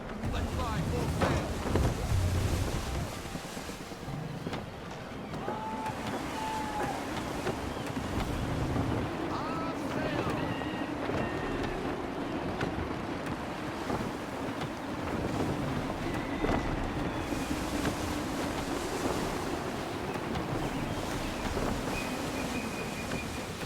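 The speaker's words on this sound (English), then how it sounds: "Gusty winds can be difficult to manage." Gusty wind and open sea surf in Assassin's Creed 3 while sailing a ship, a steady broadband rush of wind and water running throughout at moderate level, with faint tonal game sounds and voices in the background.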